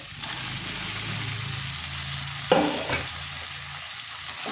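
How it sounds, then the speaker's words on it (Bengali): Bottle gourd being stirred into fried chickpea lentils in a hot pan: a steady sizzle runs throughout, with a sharper scrape of the spoon against the pan midway and a few softer knocks after. "লাউটা ভালোভাবে মিশিয়ে নিচ্ছি।"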